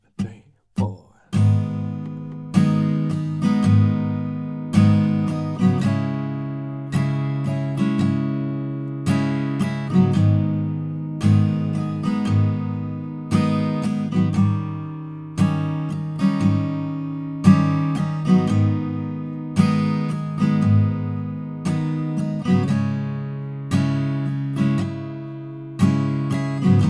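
Acoustic guitar strumming the verse 2 chord progression of a song from The Last Of Us Part II, in a steady four-beat rhythm with regular chord changes, played alone for almost half a minute.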